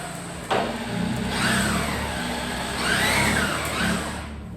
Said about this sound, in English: run this off PTO on my tractor.